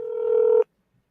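A single steady telephone tone sounds while a call is placed, holding for about half a second before cutting off abruptly into silence.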